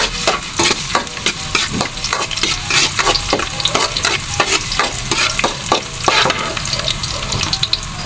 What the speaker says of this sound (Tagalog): Maglalagay ako ng mantika kasi igigisa yung unang muna yung panangkap.